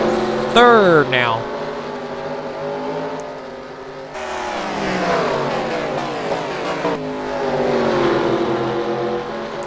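Sim racing stock cars at Richmond roar in a continuous buzzing pack, engine tones rising and falling as cars pass, under an announcer's commentary.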